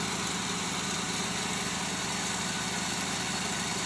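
An Oldsmobile Cutlass Supreme idles steadily in the evening, a constant low engine hum with slight vibration, close and even throughout with no voices.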